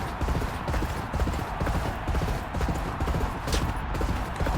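Racehorse hooves gallop in a fast, steady clip-clop rhythm during a race in the video game Champion Jockey, loud and continuous with a busy crowd-like wash behind.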